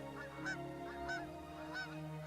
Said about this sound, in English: watch out for the geese.